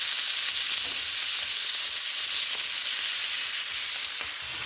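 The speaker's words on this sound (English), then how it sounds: "Just fry the bacon up in a little bit." Bacon strips fry crisp in a pan with a steady, close crackling sizzle that runs unbroken for several seconds, without any talk.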